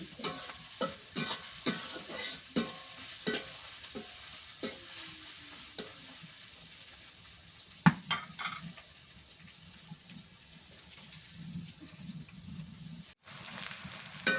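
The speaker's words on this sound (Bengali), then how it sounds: "পিঁয়াজ আর মশলা ভাজা হয়ে গেছে" Onion and spices fry in a pan on a clay stove for a village beef and bottle gourd curry, with a soft steady sizzle under repeated close scraping stirs of a spoon.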